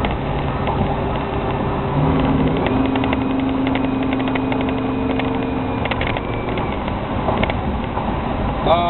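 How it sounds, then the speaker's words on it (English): 1972 Chevy Monte Carlo engine heard from inside while driving, a steady mid-pitched drone that falters and chokes as gas is given, with rattles and bumps over the road. "You give it gas and it chokes."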